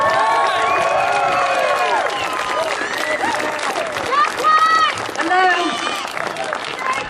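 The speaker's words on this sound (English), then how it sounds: "a good round of applause" A rally crowd applauds and cheers a speaker introduced on stage. Loud, sustained clapping runs throughout, with whoops and shouts rising over it and some voices in the mix.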